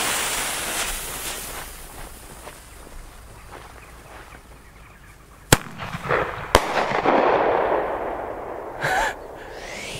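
Loud New Year's Eve fireworks: a rumbling crackle of firecrackers, then two sharp, close detonations and a long crackling burst, followed by a whistling rocket rising near the end.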